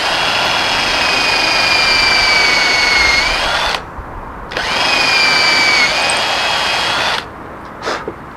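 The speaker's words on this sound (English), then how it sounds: "Drill out the next hole." A power drill bores a hole in a knife during handmade knife making, with two long, loud, high whining runs separated by a brief stop, then a short burst at the end.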